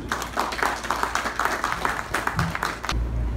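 Applause after a speech at a ceremony launching Haiti's national cancer institute, scattered individual claps in an uneven rhythm over a room murmur, fading out abruptly near the end into low hum.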